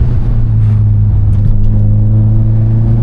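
A tuned 605bhp 2014 Subaru WRX STI engine drones loudly and steadily up close, holding a throaty pitch with only slight shifts.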